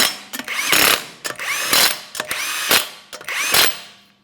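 A power tool spins 21mm lug nuts onto the front wheel of a 2014-2019 Toyota Corolla, giving four loud, close bursts of whirring and ratcheting with short gaps between them.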